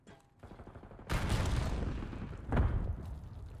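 Gunfire from a competitive esports first-person shooter match: a burst of rapid shots kicks in after a quiet opening, staying loud and dense, with a second sharp volley surging near the end.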